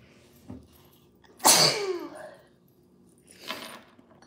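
One person sneezes loudly and close by, a sharp burst after a short intake of breath, followed a couple of seconds later by a softer breathy exhale or sniff in a quiet room.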